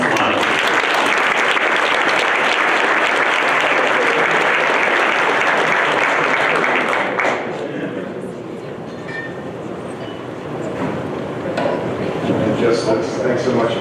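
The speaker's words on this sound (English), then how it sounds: "Please give a round of applause for the Honorable Undersecretary Thomas Modly." Audience applause at an awards ceremony, steady and dense for about seven seconds, then fading to scattered claps before a brief swell again.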